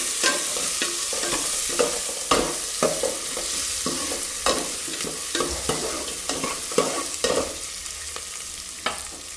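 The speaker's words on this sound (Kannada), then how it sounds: "ಇವಾಗ ಇಲ್ಲಿ ಒಗ್ಗರಣೆ ಹಾಕ್ಕೊಂಡಿದ್ದೀನಿ ಸಾಸಿವೆ ಜೀರಿಗೆ ಹಸಿಮೆಣ್ಸಿನ್ಕಾಯಿ ಕರಿಬೇವು ಈರುಳ್ಳಿ ಎಲ್ಲ ಇದು ಸ್ವಲ್ಪ ಚೆನ್ನಾಗಿ ಫ್ರೈ ಮಾಡ್ಕೊಬೇಕು" Mustard seeds, cumin, green chillies, curry leaves and onion tempering in hot oil, a loud continuous sizzle broken by repeated scraping and clacking stirs throughout, with no voices.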